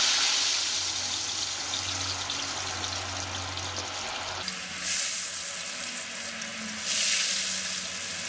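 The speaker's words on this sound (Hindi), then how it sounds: "यहाँ पे मैंने ऑयल कर लिया है गरम। अब हम इसमें डाल देंगे चिप्स।" Potato chips for homemade french fries hit hot oil, setting off a steady hiss and crackle of frying that runs throughout, with a couple of brief watery swells near the end; no one speaks.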